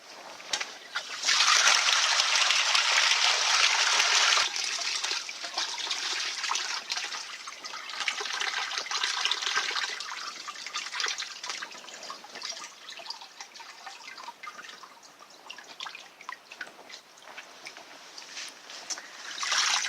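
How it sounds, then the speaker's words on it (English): Water drains through an opened valve into a mesh bag that collects solids in a desalination setup, a steady rushing, splashing flow that starts loud then settles into a fainter trickle with drips, with no speech over it. "We collect the solids in this mesh bag by opening this valve."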